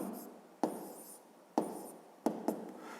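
Pen writing numbers by hand on paper during a fifth-grade maths exercise, heard as a few short, close scratching strokes separated by pauses, each opening with a small tap of the pen, with no talking.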